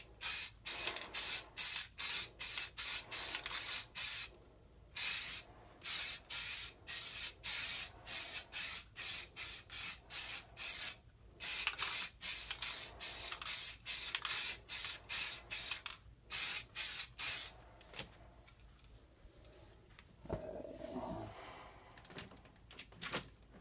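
Aerosol spray paint hisses through stencils onto a Necromunda Warhammer gaming table in a long run of short, loud, closely spaced bursts with brief pauses, then a quieter stretch of handling noise near the end.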